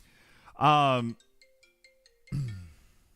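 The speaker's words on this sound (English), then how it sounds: "My phone is ringing" A phone ringtone chimes in a short melodic pattern of soft beeps, sounding between two bursts of loud, close talking.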